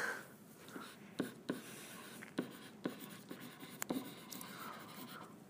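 Marker or chalk writing on a board during an algebra lesson on linear expressions, with short scratchy strokes and sharp taps spaced irregularly over steady room tone, fairly close and moderately loud.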